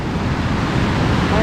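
The rushing Nisqually River at Mount Rainier, a loud, steady broadband roar of fast water heard close by.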